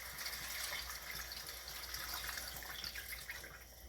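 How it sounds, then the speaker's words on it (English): Four cups of water poured into a cooking pot for pasta in a home kitchen, a steady, faint rushing and splashing that runs without a break, with no voices. "I'm going to add 4 cups of water"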